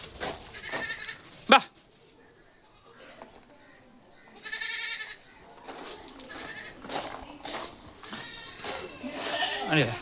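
Young goat kids bleat repeatedly in short, high cries, some close and loud, with pauses and a sharp knock between calls.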